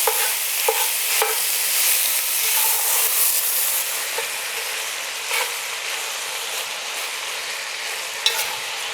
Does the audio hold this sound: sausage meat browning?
yes